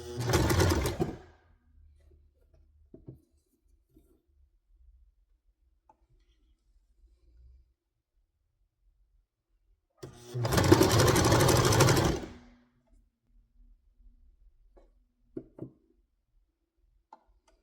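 A home sewing machine runs in two short bursts while dress pants are being altered, with near silence and a few faint clicks and knocks between the runs.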